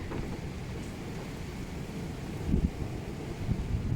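A heavy rain downpour pours down with strong wind during a violent hurricane-like storm, a dense, constant roar close to the microphone, broken by a couple of louder gusty buffets near the end, with no one talking.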